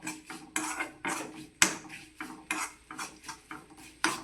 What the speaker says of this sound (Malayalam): നല്ലതായിട്ടൊന്ന് ഇളക്കി കൊടുക്കാം